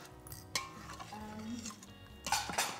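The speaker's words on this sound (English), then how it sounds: "stir while you add it so it doesn't seize up" Cornstarch slurry being stirred into sauce in an Instant Pot, a spoon scraping and clinking against the inner pot in quick irregular strokes with a louder burst near the end, close and soft, without voices.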